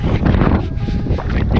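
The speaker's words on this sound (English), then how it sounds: "Sorry if it's windy." Gusty wind buffets the microphone outdoors on a cold day at a lake during bass fishing, a loud continuous low rumble with brief surges that fills the whole clip without speech.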